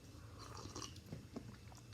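Someone chews food with pretzels in the meal, soft crunching bites and mouth sounds repeated close to the microphone at low volume, with no talking.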